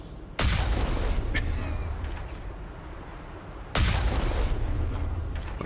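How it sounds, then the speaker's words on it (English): Incoming rockets exploding in the video game Mass Effect: two loud, sharp blasts a few seconds apart, each followed by a long rumbling decay, with no talking. "Just watch out for the rockets coming."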